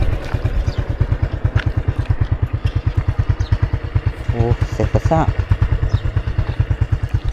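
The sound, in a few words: motorcycle engine running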